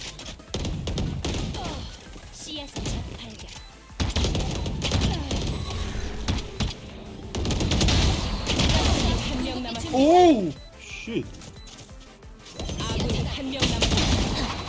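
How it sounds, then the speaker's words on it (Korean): Rapid bursts of game gunfire rattle repeatedly over several seconds, loud and close, mixed with thuds and a rising electronic whine, with a voice talking underneath. "솔직히 총소리 진짜 별로거든?"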